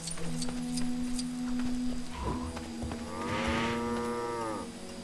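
A cow in the LEGO Jurassic World video game lets out a long, low, drawn-out moo, rising and then fading, over a steady background of game music and ambience.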